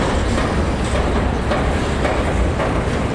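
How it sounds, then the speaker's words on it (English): A long CSX freight train rolls past at Fostoria, Ohio, a steady, dense rumble of wheels and cars with low engine drone, continuous and fairly loud throughout. "This is our very first train of Fostoria, Ohio."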